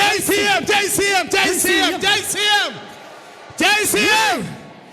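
A church congregation cheers, whoops and ululates in loud, wavering bursts of high trilling voices, two long waves with a short lull between them.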